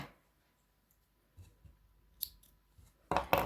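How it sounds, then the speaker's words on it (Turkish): Scissors snip through crochet yarn while a star-patterned motif is finished, with a few quiet clicks followed by two sharp close cuts at the end. "Hemen ipimi keseceğim."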